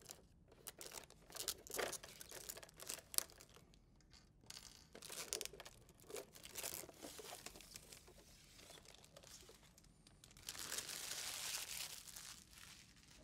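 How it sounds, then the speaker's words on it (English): Thin protective plastic wrap peeled off a toy car shell, a quiet, close run of crinkling and tearing with scattered rustles and short pauses. "it's got a plastic wrap on it that's designed to protect the shell. So let's go ahead and remove that before we go any farther"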